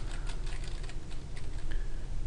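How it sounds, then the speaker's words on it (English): Keys clatter on a computer keyboard in quick, steady bursts, close and moderately loud, with no talking. "typing"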